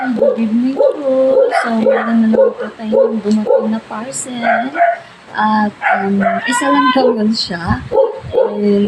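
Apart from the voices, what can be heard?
dog barking in the background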